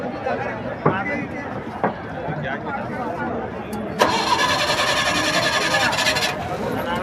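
A motorboat engine on the river at Varanasi starts up in the morning. After brief cranking clicks it catches and runs steadily, loud and near, over background voices.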